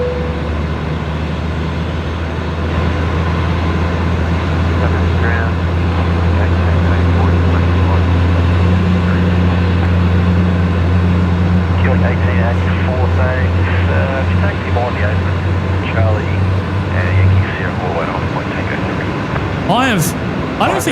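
An Emirates airliner's jet engines spool up at Brisbane Airport, a loud sustained low drone with rising whine that holds for most of the stretch before cutting off, while people talk nearby.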